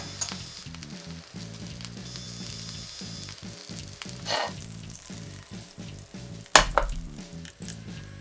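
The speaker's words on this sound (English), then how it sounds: "let's add 1 teaspoon of butter" Butter sizzles and fries in a pan already used to cook pork steak, a steady close crackling hiss with occasional clinks and stirring, over a faint low hum from the kitchen.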